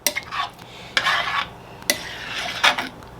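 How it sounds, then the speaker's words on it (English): A spoon stirs white chicken chili in a cast iron pot, giving four short scraping, clinking bursts with brief pauses between them, close and clear. "I'm going to stir for a second, because that's one thing about cast iron."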